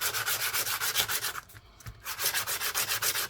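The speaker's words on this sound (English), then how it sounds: "she's a nice bit of very fine sandpaper" Fine sandpaper rubs back and forth on a folded 50p coin being made into a ring, a rapid rhythmic scratchy rasp close up, pausing briefly midway before resuming.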